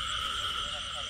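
Frogs in a rice field after heavy rain, a steady chorus of calls and insect-like drone filling the background at moderate level, with faint human presence and no clear speech over it.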